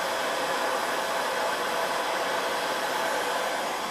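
Steady, continuous airy roar of a heat gun blowing on its cool setting, a constant broadband whoosh with no variation and no talking.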